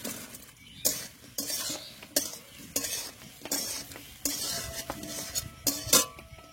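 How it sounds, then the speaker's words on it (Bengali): Fried egg pakoras are stirred in a pan with curry leaves and garlic, a spoon scraping and clinking against the metal in repeated bursts over a soft sizzle, close and fairly quiet. "এবার ডিমের পকোড়াগুলো দিয়ে দেব।"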